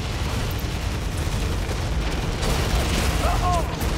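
Continuous rumbling battle noise with booming explosions and gunfire from the real-time strategy game Tom Clancy's EndWar, loud and dense throughout, with a few faint radio-like tones near the end.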